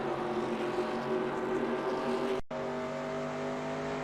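A stock car engine in NASCAR Racing 2002 drones at Homestead-Miami Speedway, a steady loud buzzing roar that cuts out for an instant midway and then resumes at the same pitch, with no talking.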